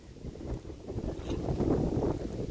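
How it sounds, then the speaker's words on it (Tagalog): Strong wind rumbles and buffets a nearby microphone, forming a steady low roar that swells slightly. No one is talking. "lakas ang hangin"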